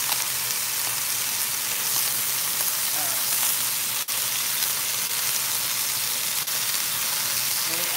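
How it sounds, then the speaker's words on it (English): Beef short ribs searing in a hot pan give off a steady, loud broadband sizzle and frying hiss that holds evenly throughout, with a couple of brief dips. "Okay, I almost got that sear."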